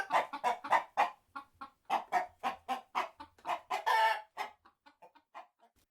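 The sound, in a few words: chickens clucking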